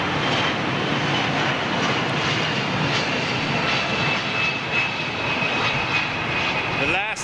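A jet airliner landing at London Heathrow gives a loud, steady engine roar that fills the whole stretch, with commentary spoken over it.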